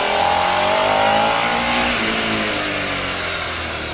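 A loud, close Yamaha MT-07 motorcycle engine revving, its rising whine and throaty rumble held steady before easing off slightly at the end.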